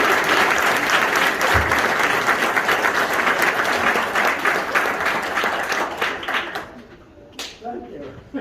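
A room full of people applauding swimmers, dense and steady clapping that fades away over the last couple of seconds, with a voice beginning to speak at the end.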